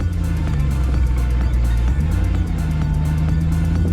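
A Demon-engine-swapped Jeep driving through the desert, its deep engine droning steadily and loudly up close with a brief dip in pitch as the revs shift.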